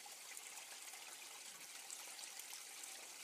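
Water runs steadily off the end of a gold-prospecting sluice where clay-laden tailings wash out, a continuous close, hissing trickle and gush with no voices.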